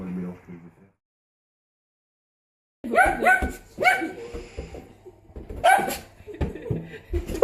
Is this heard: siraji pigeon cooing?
no